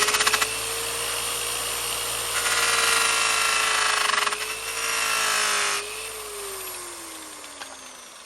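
Electric buffer polishing the paint of a farm truck, a steady loud whir that rises and dips in pitch as the pad works, with louder stretches of rubbing friction and no talk.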